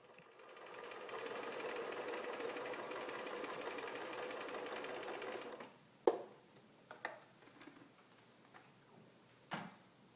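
A sewing machine stitches corner to corner across fabric for a flying geese quilt block, running in a steady mechanical whir for about five seconds, then stopping, followed by a few faint handling clicks and taps.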